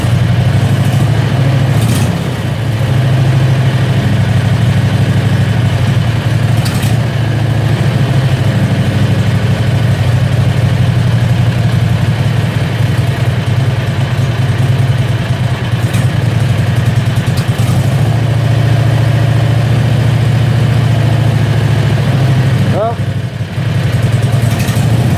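A Predator 670cc engine fitted with a diaphragm fuel pump idles loudly and steadily up close, a continuous low rumbling drone with slight unevenness, while a person talks over it at times.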